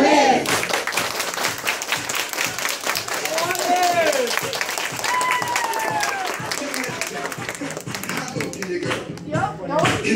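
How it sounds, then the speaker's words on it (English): A group claps along at a lively dance session, with brisk rhythmic clapping mixed with whoops and shouting voices, loud and close throughout. "Everybody clap your hands."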